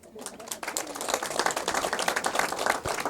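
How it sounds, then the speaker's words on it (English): An audience claps at a public health-cover event, a dense, steady patter of many hands building quickly and holding for a few seconds, fairly close. "Let's clap for them."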